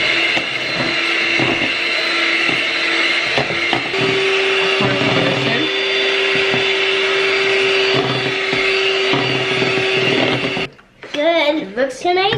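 An electric mixer whirs steadily through muffin batter with chocolate chips in a home kitchen, a loud continuous motor drone that stops near the end, with voices talking at the close.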